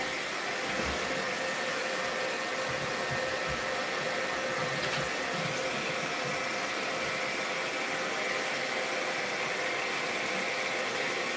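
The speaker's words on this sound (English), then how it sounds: "I'm going to run this under the blow dryer while I'm doing that" A blow dryer runs steadily in a bladesmithing workshop, a loud continuous whoosh without pauses throughout.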